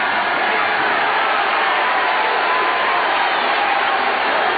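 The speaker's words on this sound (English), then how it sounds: "Crowd a little angry." Basketball arena crowd during a 1996 NBA game between the Sonics and Rockets, a steady, dense roar of many voices grumbling and shouting in anger, continuous and fairly loud throughout with no distinct breaks.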